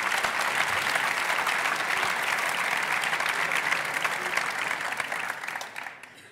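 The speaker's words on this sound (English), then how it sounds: "a big applause for Mrs." A church full of ceremony guests at a university anniversary gives the organist sustained, dense applause that stays loud and even before fading out over the last second.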